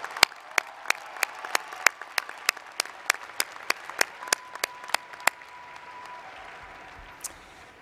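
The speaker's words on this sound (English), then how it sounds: "So please join me in a special round of applause for Jessica." A spring university commencement audience claps, a handful of sharp, distinct hand claps over a murmuring room that thin out and fade near the end.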